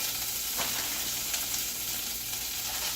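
Callaloo greens sizzling in a preheated pot with olive oil, a steady close hiss of frying that holds even and unbroken, with no talk over it.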